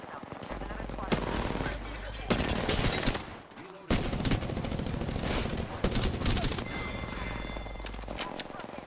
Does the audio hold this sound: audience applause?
no